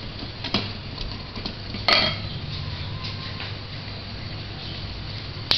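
A spoon works melting chocolate in a bowl set over boiling water, giving soft scraping and occasional light clinks against the bowl beneath a steady hiss, with one sharper knock partway through.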